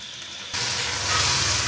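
Chicken frying with garlic and onion in a pan: near silence, then a sudden loud, steady sizzle that stays up close.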